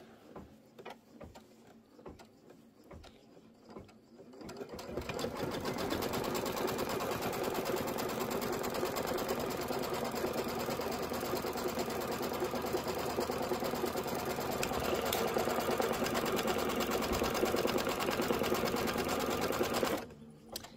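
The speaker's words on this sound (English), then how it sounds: "So I'm going to go ahead and hit start." Embroidery machine stitching a pouch tack-down line, opening with a few clicks and then a loud, steady, continuous whirring stitch run that ends abruptly near the close; no talking.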